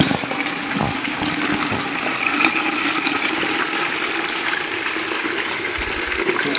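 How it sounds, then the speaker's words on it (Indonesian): Strong, steady gush of water pouring out of a new submersible water pump, a constant hissing splash that stays loud throughout with no talking. "sudah kita lakukan pengetesan mesin baru. Dan ini airnya, mesinnya cukup kencang"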